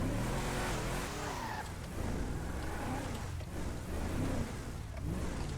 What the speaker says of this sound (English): it has radio, it has an engine sound.